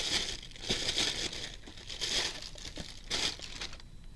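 An item being pulled out of a thin plastic bag that does not reseal, close crinkling and rustling in repeated waves with no talk over it.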